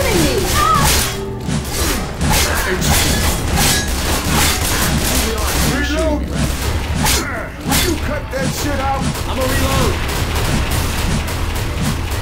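Rapid gunfire from Left 4 Dead 2 crackles almost nonstop, dense bursts of shots and impacts close and loud, with a shouting voice cutting in among the shooting.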